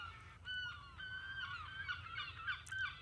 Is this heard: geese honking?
yes